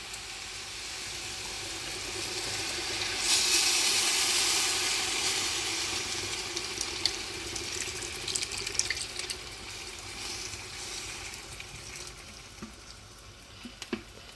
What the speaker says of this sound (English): now I have here some Potts chicken stock. There we go, I'll just pour that in.